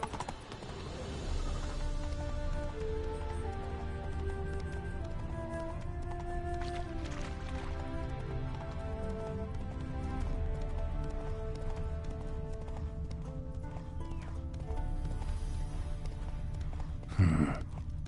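Hooves of the horse Roach clip-clop at a steady pace in The Witcher 3, a continuous rhythmic drumming under game music and ambience, with a sharper burst near the end.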